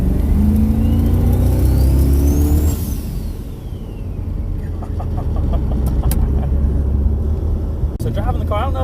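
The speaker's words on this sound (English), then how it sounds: "Get that turbo spool in one more time, a little bit." A turbocharged 5.3-swapped Firebird pulls hard and loud, a rising turbo whine climbing steadily before dropping off, then the motor settles into a rumbling idle with faint chirps.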